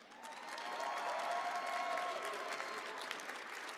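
Audience applause fills a Dragon Ball Super Card Game championship hall, a steady, dense wash of clapping from a large crowd that holds for several seconds without any talk over it.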